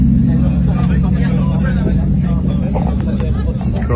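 Cars line up at a Dunsfold track day, their engines a loud, continuous low rumble under nearby voices and crowd chatter.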